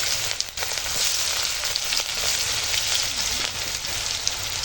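Onion sizzles steadily in hot oil with panch phoron, a dense, loud, continuous frying hiss heard up close with no voices.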